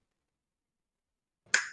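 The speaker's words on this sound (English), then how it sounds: "snap my fingers" A single crisp finger snap, short and close, after near silence.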